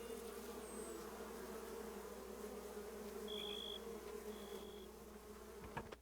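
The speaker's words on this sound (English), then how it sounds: "what's that buzzing? Oh, it is the bees" Steady buzzing of bees in the Going Medieval video game, a low continuous drone at moderate volume, with a few thin high tones over it and a brief click near the end.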